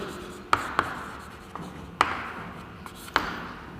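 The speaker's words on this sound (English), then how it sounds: "let me just write down here." Chalk or marker writes on a board during a classroom lesson, with sharp taps marking strokes and soft scratchy rubbing between them, close and clear with no speech.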